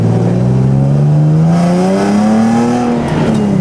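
The engine of a repaired competition car revs while driving, a loud continuous roar rising steadily in pitch with a slightly rough, uneven tone, close and dominant throughout.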